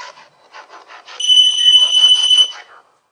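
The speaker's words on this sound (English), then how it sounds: "If you get near that, it'll beep like that." REM pod ghost-hunting device emitting a steady electronic tone for about a second and a half, preceded by soft rhythmic rustling or handling noises, close and fairly loud.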